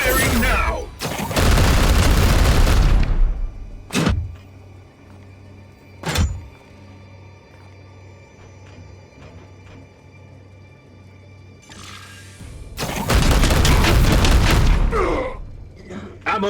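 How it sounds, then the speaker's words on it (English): Heavy weapon blasts in the turn-based game Chaos Gate Daemonhunter: a long loud roaring volley, two sharp booming shots, a quiet stretch, then another sustained thunderous barrage, with voices speaking in between. "Firing now!"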